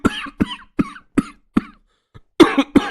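A man coughs repeatedly in a rural hut while wrapped in a shawl, with several sharp coughs in an uneven rhythm, a brief pause, then a louder, rougher burst of coughing close by.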